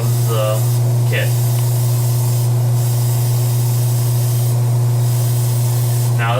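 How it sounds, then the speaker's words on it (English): An airbrush set to about 25 psi sprays a flat coat onto a model kit from a distance, giving a loud continuous hiss over a low steady compressor hum, with brief bursts of other noise. "I'm gonna put my airbrush pressure up to about maybe 25 psi, spray from a distance, and just slightly coat the surface of the kit"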